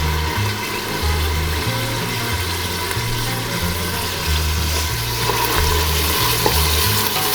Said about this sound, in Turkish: Soğanlarımızı kavrulması için boşaltıyoruz.